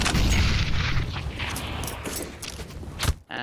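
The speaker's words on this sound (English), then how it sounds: "There goes the nade." A grenade bursts in a Counter-Strike match: a loud boom at the start decays into rumbling debris and scattered footstep-like thuds, with a sharp crack near the end.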